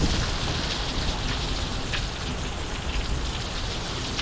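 A thunderstorm dumps torrential rain in Needles, California, a constant close hiss and patter of water pounding a flooded porch and road, loud and even from start to finish.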